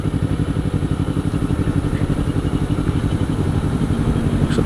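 A motorcycle coasts along without revving, its engine holding a close, steady, low rumble with a rapid pulsing beat and faint mechanical clatter from start to finish.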